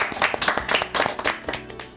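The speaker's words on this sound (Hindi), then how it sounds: "तालियां।" Studio audience clapping on a Bhojpuri game show after a contestant finishes a puzzle, heard as a short, close burst of rhythmic claps that rises and fades within a couple of seconds.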